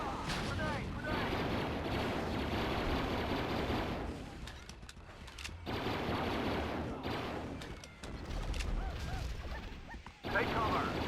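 A grenade explodes during a Star Wars Battlefront battle, amid dense, continuous gunfire and artillery-like blasts, with rumbling booms and brief dips in a loud, chaotic combat soundscape.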